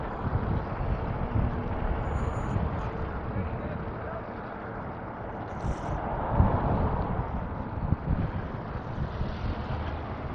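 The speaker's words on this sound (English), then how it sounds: "Bit breezy." Gusty outdoor wind buffets the microphone during a city walk near a plaza in Regina, a steady low rumbling roar that rises and falls with the gusts.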